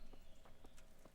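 Horse hooves clip-clopping in the medieval video game Kingdom Come: Deliverance, a few evenly spaced, moderately loud hoofbeats over a steady background bed, with no talk.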